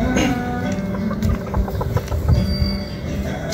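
A young rooster stag and two pullets cluck up close and loud, with rapid overlapping clucks in a busy farmyard.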